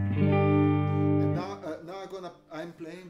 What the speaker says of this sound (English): I'm playing distortion on 10 o'clock gain.